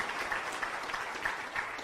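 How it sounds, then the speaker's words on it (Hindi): Audience applause at a motivational talk on the laws of success, steady and dense crowd clapping filling the whole stretch at moderate loudness with no voices over it. "जोरदार ताली मारिए महात्मा गांधी के लिए"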